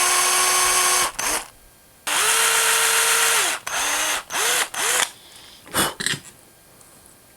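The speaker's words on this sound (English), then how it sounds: "I'm gonna drill 5/16 hole as close to the front as I can get it" Wooden bass lure being bored with a 5/16-inch bit: loud electric drill bursts of steady whine, starting, winding down and restarting several times, with short pauses between runs, close up and alone.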